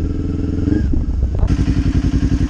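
A Kawasaki Ninja 400 motorcycle engine idles with a throbbing pulse, then revs up into a louder, rapid rhythmic beat as it pulls away, close and prominent.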